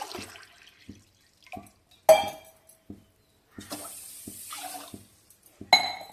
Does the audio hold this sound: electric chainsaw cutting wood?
no